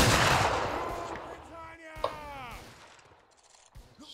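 A rifle volley from a company of soldiers fires in Mount & Blade Warband's Anglo-Zulu battle mode, opening with a loud crackling burst that fades away, followed by a brief shouted voice and distant scattered pops.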